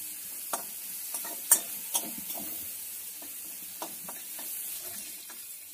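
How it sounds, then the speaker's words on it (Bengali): Prawns frying in hot oil in a home kitchen pan, a steady soft sizzle and hiss broken by several sharp spatters and crackles, with occasional stirring and no voices. "চিংড়ি মাছটাকে লাল লাল করে ভেজে নেব।"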